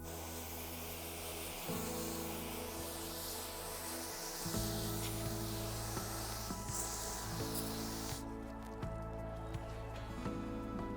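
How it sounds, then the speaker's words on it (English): A garden hose sprays water onto teak wood to rinse off a two-part teak cleaner, producing a continuous close hiss of spray and splashing that shifts in tone as the stream moves across the surface. "use the hose to rinse the Part 2 cleaner off of the wood"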